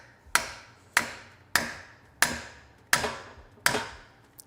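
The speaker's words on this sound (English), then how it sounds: "it's gonna be a little loud because I'm hitting this against metal. And then just try to hammer this out of here" Six loud, sharp metallic hammer blows strike a stuck part against metal at an even pace, each ringing out briefly before the next.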